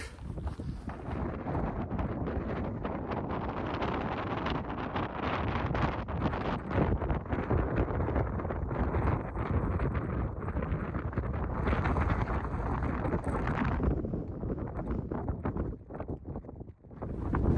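Strong gusty wind on a cold mountain summit buffets the microphone continuously, a loud rushing roar that rises and falls without letting up.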